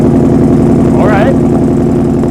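A 2015-2020 Ford F-150 fitted with an AWE Tuning 0FG single-side-exit cat-back exhaust idles close by with a loud, steady, deep rumble, and a brief voice-like sound rises over it midway.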